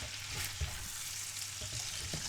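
Steady sizzling and crackling of chicken skin frying in its own rendered fat in a hot pan, with occasional soft scrapes and stirring sounds, no voices.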